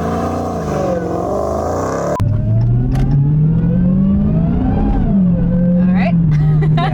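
A 2020 Dodge Challenger Hellcat Redeye accelerates hard with its rear tires slipping. Loud, close engine noise suddenly jumps to a deep roar, which climbs, dips and climbs again, with faint voices nearby.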